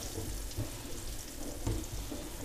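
Onions go back into a pot for a slow-roasted pot roast and sizzle in a dense, steady crackle, with a few louder bursts and stirring knocks, close and continuous.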